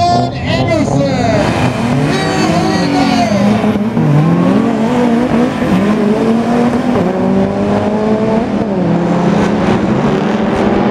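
A Mitsubishi Evo and a Chevelle drag race side by side at a match race event, their engines loud and continuous with rising and falling revs under an announcer's voice throughout.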